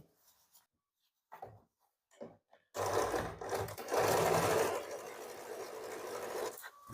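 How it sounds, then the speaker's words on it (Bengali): A domestic sewing machine runs in a steady close burst while stitching a seam on a baby frock, after a few quiet taps and handling noises, then slows into lighter whirring. "দ্বিতীয়টাও একইভাবে সেলাই করছি"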